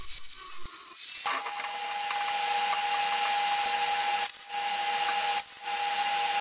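A grinder bevels the edge of a well-used cast iron piece to prepare it for welding, giving a steady, loud, continuous whine with a sustained tone after a brief start, dipping briefly twice as the disc lifts off.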